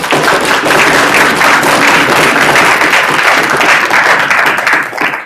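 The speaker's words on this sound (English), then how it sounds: "I'd like to invite you to join me in giving all 8 of these debaters another round of applause." A debate audience gives the eight debaters a loud, sustained round of applause, dense clapping from a full room that holds steady for several seconds before easing slightly at the end.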